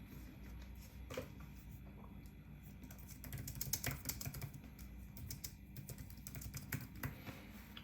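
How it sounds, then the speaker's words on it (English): Typing on a Logitech Slim Folio Pro tablet keyboard, a quiet, close run of soft key clicks that starts sparse and grows busier and denser midway. "It is good typing."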